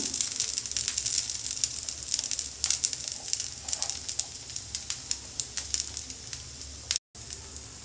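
Thinly sliced onions and green chilies sizzle on an instant uttapam on a hot griddle, a soft, steady crackling hiss with small pops that is close and fairly quiet.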